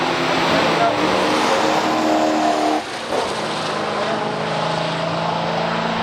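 A 1971 Corvette with a 350 V8 and manual transmission drag racing a 1964 Studebaker Challenger R4 down the strip, engines roaring loud and close before a brief dip, then a sustained fading drone, with a commentator talking over it.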